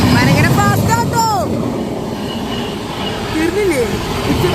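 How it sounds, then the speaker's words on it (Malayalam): A train passes fast on a rail line in Kashmir with a loud, close, continuous rumble and rattle. Brief rising and falling tonal sweeps and some voices sound over it. "ട്രെയിൻ പോകുന്നു."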